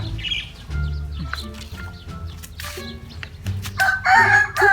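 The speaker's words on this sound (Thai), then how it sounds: "ไก่ตีกัน" Chickens squawk and crow in a loud, busy scuffle, with harsh calls and clucks overlapping and a strident outburst near the end.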